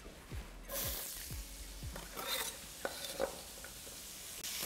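Onion dropped into a hot frying pan for Basque chicken, bursting into a loud close sizzle after a few soft thumps, then frying steadily with occasional clicks of a utensil, no talking.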